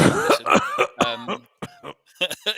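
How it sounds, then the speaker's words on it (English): A few throaty coughs in quick succession, close and loud, with brief pauses between bursts. "cough over that"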